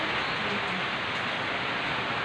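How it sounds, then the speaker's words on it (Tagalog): Steady rain falls continuously during an outing at Bulod, Ligao, a soft, even hiss that stays constant and fairly quiet throughout, with no talking. "Inabot kami ng ulan."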